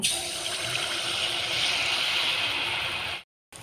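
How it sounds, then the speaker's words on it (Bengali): Malpua batter frying in hot oil, a steady broad sizzling hiss that holds loud and even for about three seconds, then cuts to a brief silence before resuming. "তেলটা গরম হয়ে গেছে, এবার মালপোয়াটা ভেজে নেব।"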